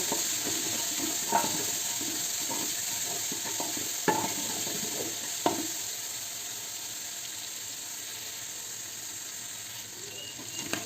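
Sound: whole green chillies being stir-fried with vegetables

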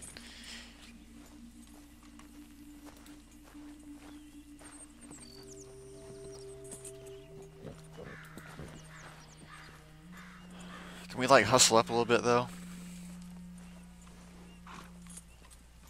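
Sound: horse in video game Red Dead Redemption 2

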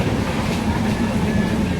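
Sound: train carriage rattling on tracks

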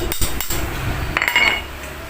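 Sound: hammering wood

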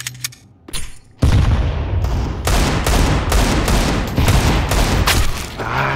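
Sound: gunfire in a video game (Counter-Strike, Nuke map)

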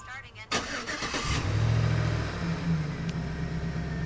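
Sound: truck engine starting via remote command

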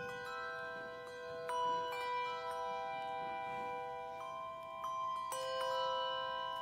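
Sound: church bells tolling

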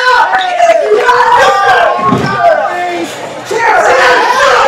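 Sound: wrestling event crowd shouting

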